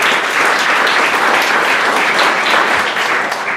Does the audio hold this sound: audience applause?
yes